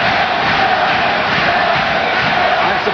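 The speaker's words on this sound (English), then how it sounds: "The crowd chanting Billy, Billy for Billy Costello here in Kingston." A boxing crowd in Kingston chants for Billy Costello during his fight with William Rodriguez, a dense, loud, continuous roar of many voices with no clear break.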